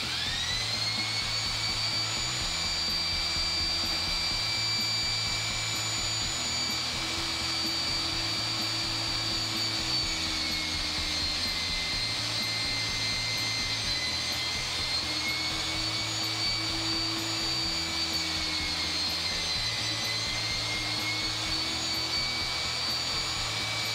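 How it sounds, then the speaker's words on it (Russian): An electric drill mounted in a homemade wooden drill press stand runs with a steady, high motor whine and low hum, close and continuous, with slight pitch shifts as it bores into the material. "А теперь давайте сверланем."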